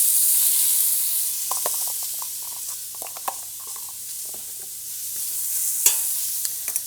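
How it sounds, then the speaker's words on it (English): Vegetables sautéing for bone broth send up a bright, hissing sizzle, with a run of short utensil clicks and scrapes in the middle and a few sharper knocks near the end, close and without talking. "that's what it looks like when you saute this stuff"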